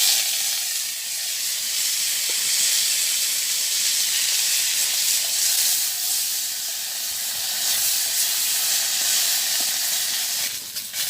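Yardlong beans sizzle steadily in hot oil in a pan in a village kitchen, a loud continuous hiss with no talking over it.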